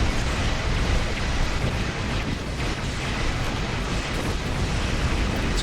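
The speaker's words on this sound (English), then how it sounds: "Medium inversion cannon." Medium inversion cannon firing aboard a Fleet Mat'Ha Raptor in Star Trek Online, a loud, dense, continuous rumbling blast that holds steady for several seconds with no voices over it.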